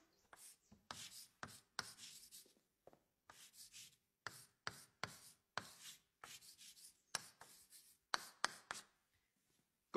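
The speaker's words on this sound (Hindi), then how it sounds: "कुछ ऐसा लिखते थे विंची साहब।" Pen scratching on paper while writing, in quick bursts of short strokes with brief pauses between words, quiet and close, with no voices.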